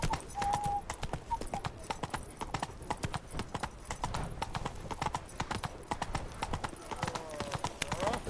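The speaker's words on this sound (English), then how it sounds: "Whoa there, Roach" Horse hooves clip-clopping steadily in The Witcher 3 game, a brisk rhythmic trot that runs throughout alongside game ambience, with voices speaking over it.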